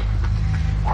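A dog barks in a brief burst of yipping, close and moderately loud over a low, steady background rumble.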